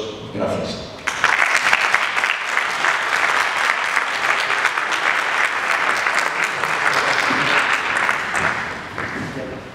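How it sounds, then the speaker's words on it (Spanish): A lecture audience on a university campus in Zamora gives a long, steady round of applause, dense and close, rising abruptly after a second and holding evenly until it fades near the end. "Y yo os pido un aplauso para ellos, que les caliente el alma y que dé paso a su intervención."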